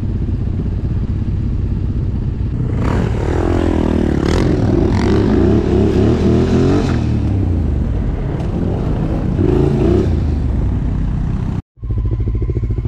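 A quad bike engine revving close by, a loud continuous rumble with rising and falling revs, cut off by a brief gap near the end before the idle resumes.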